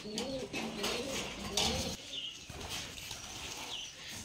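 Giribaz pigeons in a cage, soft cooing mixed with flutters of wings against a busy, noisy background, faint and continuous over several seconds.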